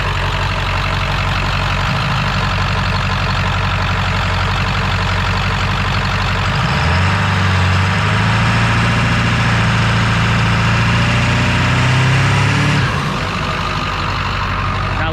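A warm 7.3L diesel truck engine runs loud and close, then is brake boosted, its low rumble deepening and swelling for several seconds before dropping back to idle.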